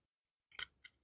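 Two quick metallic snips of scissors trimming the fabric corner of a zipper shoulder bag, close and crisp in an otherwise silent room.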